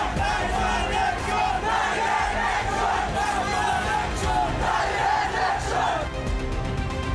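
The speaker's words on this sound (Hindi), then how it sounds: "सरेआम सड़कों पर कट्टरपंथियों की उन्मादी भीड़ डायरेक्ट एक्शन दोहराने का नारा लगा रही है।" A frenzied crowd of hardline protesters chants slogans calling to repeat Direct Action in the streets of Bangladesh, a dense, continuous roar of many voices with rhythmic shouted surges, loud and close throughout.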